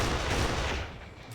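Gunfire in the video game Kane & Lynch 2: Dog Days, a dense, loud burst of rapid shots that crowds out everything else, then eases off slightly toward the end.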